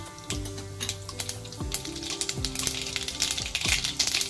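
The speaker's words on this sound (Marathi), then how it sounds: "राई आणि जिरं चांगलं तडतडायला लागलं" Mustard seeds splutter and crackle in hot oil in a wok, with dense sizzling and sharp popping throughout, plus a few utensil clinks, close and loud with no talking.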